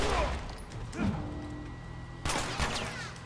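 Gunfire in The Last of Us video game, a few sharp cracks with a loud burst near the start and another later, set against game ambience and faint voices.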